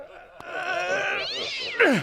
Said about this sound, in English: And Scrimnir's cat was the size of your average cow